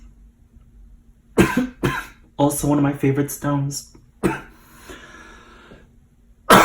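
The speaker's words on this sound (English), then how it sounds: "Sorry about the coughing." A person coughs in a few sharp bursts before and after a short stretch of speech, close and fairly loud.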